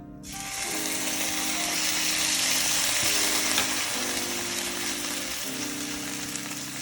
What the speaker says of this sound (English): chuck that chicken that you've just marinated in the fridge into the frying pan. Feel that nice beautiful sizzle.